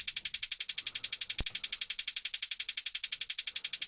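Steady modulated white noise layer in a drum and bass drum production, pulsing rapidly in a sixteenth-note ramp-down pattern above a hat, loud and continuous with no voices.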